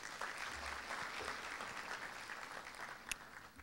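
Steady audience applause fills a hall at the opening ceremony of a Haitian Model United Nations conference, an even wash of many hands clapping with no speech over it.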